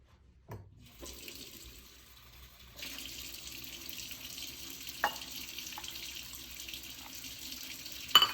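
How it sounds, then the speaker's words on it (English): A kitchen sink tap is turned on and left running while challah dough is being prepared. After a couple of soft knocks, a steady, close hiss of flowing water sets in and continues to the end, with a few small clinks in the basin. "I'm gonna turn on my sink and wait until the water gets warm."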